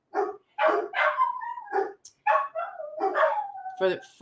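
Dogs bark and yip close by in a series of sharp, uneven barks with whiny, drawn-out tones between them, heard on their own without talk over them.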